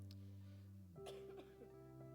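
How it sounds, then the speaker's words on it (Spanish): A single person gives a short, rough cough or throat-clearing, heard close up over a steady hum, followed by a few faint rasping sounds. "Lo de la tos no te lo quería decir."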